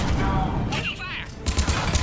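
Bursts of rapid gunfire crackle through a Mass Effect 3 combat scene against Cerberus troops, with dense fusillade textures, mechanical clatter and brief voices in the background.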